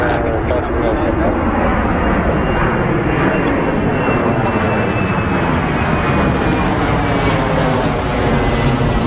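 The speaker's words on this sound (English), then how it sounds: "Okay, so that's 767 that you've just seen go over there, 767-300 off to Detroit" A Delta Boeing 767-300 passes overhead at Heathrow Airport, its loud, steady engine roar filling the whole stretch, with someone talking over it.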